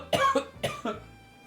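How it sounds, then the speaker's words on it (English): A dry, non-productive human cough sounds twice in quick double hacks, close to the microphone and otherwise alone. "You like that dry, non-productive cough?"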